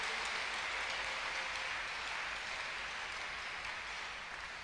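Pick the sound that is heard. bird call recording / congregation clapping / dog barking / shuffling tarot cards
congregation clapping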